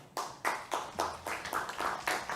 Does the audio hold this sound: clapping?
yes